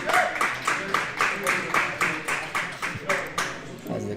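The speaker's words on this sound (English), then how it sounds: "As the crowd applauds" Crowd at a Mint Billiards Grand Open final pool match applauding in a steady run of claps, the bursts rising and falling roughly every half second for several seconds.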